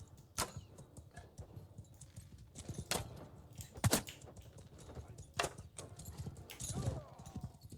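Horses gallop in the Mount and Blade video game as horse archers charge, producing faint, irregular hoof clops and sharp thuds spread across the moment, fairly quiet with no talk over them.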